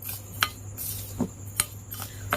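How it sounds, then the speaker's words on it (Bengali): A few sharp metallic clinks of a spoon against a bowl while mixing fried moong dal, over a low hum, spaced irregularly and fairly close. "এবার খুব ভালো করে একটি চামচ দিয়ে মিক্স করে নেব"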